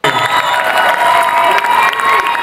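A large crowd cheers and applauds at a political election-night event, a dense, loud roar of clapping and shouting that holds steady throughout.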